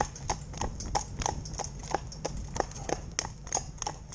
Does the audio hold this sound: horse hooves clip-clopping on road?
yes